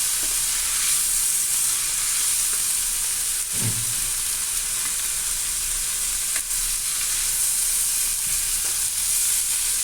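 Soaked bihon rice noodles fry in a pan with a steady, close sizzle for the whole clip, plus a few scraping stirs.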